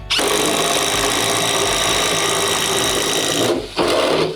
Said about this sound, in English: I'll have to drill through the backing as well.